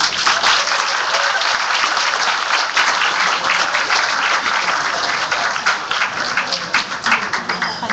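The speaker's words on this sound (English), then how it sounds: "another round of applause please for the amazing ambassadors" Sustained applause from a concert audience, steady and fairly loud throughout with a crowd's clapping filling the space.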